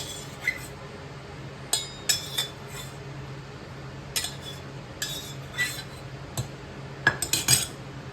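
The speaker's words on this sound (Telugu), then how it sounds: "ఇప్పుడు ఉడికించిన క్యారెట్ని వేడి తగ్గాక మిక్సీ జార్లో వేసుకోవాలి." Boiled carrots are tipped into a mixer jar, making sparse, light clinks and taps of utensil against jar, scattered over several seconds in a quiet kitchen with no talking.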